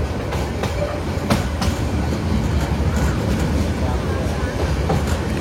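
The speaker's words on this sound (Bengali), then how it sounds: "আমাদের ট্রেনটি এখন মেন লাইনে প্রবেশ করছে মেথিকান্দা রেল স্টেশনের লুপ লাইন থেকে।" Titas Commuter train crossing from a loop line onto the main line at Methikanda station, with loud continuous rumble and rhythmic clickety-clack of wheels over rail joints and points.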